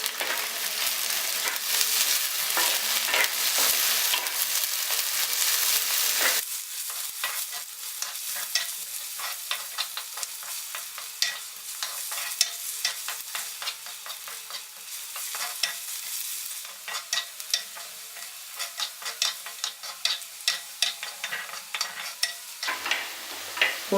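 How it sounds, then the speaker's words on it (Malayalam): Green chilies, onion and curry leaves hit hot oil with a loud sizzle, then keep frying in a pan under steady stirring and scraping strokes, close and continuous. "2 പച്ചമുളക് കീറിയത്, 1 ചെറിയ സവാള അരിഞ്ഞത്, കുറച്ച് കറിവേപ്പില ഇടാം. നമുക്കിതൊന്ന് വഴറ്റിയെടുക്കാം."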